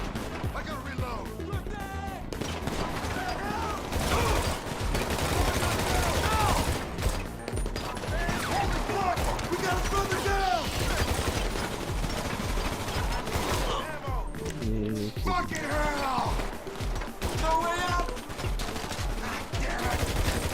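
Rapid bursts of gunfire crackle through a GTA 5 Online firefight, with repeated rattling volleys and mechanical clatter close by, while someone talks excitedly over much of the shooting.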